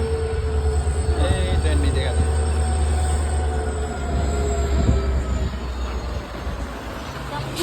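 A train rumbles past close by, a steady heavy roar with high wheel squeals and clatter, and voices faintly underneath.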